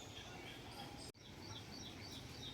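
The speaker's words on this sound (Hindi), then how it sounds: "कितना मीठा बोल रही है कोयल" An Asian koel sings in the mango season, its calls mixed into a dense wash of other bird chirps and steady rain-like hiss near a palace garden, with one brief dropout midway.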